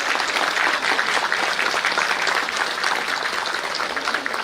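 A hall audience at an achievers' felicitation ceremony gives a big, continuous round of applause, dense and loud from start to finish with no voices over it.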